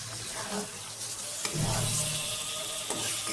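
Gajar fish and bottle gourd sautéing in a pan, with a steady close sizzle and brief stirring scrapes.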